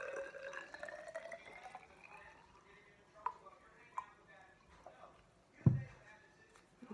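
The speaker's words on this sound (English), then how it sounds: "Now we're going to open up the vinegar and pour 50 milliliters in there." Vinegar is poured into a container in a lab, giving a trickling, dripping flow that thins out and then ends in a louder splash or clunk.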